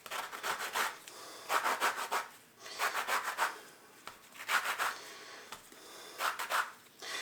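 Citrus peel is rasped against a grater for a fire cider tonic, making rhythmic bursts of dry scraping strokes in short groups with brief pauses between them, close and fairly quiet.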